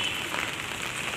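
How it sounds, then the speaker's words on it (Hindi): Heavy rain pours steadily on surfaces outdoors, a dense, even hiss that continues without a break and stands alone with no voices. "और जोरों की बारिश हो रही है।"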